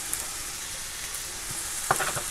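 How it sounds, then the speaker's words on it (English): Food frying gently in a pan for sweet chili pork and egg fried rice, a soft steady sizzle throughout with a brief louder crackle and stir near the end, no talking. "While they're frying away nice and gently"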